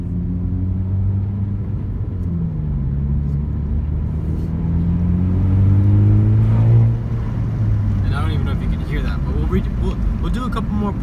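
A 10th-generation Honda Civic Si with a cold air intake accelerates hard in third gear, a steady loud engine drone rising in pitch through the pull, with a faint whoosh later on.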